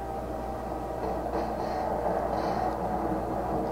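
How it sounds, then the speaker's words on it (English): A train rushes past close behind the player in the Half-Life 2 video game, a steady loud rumbling roar with rail clatter sustained throughout, no talk. "we go run because the train's right behind us."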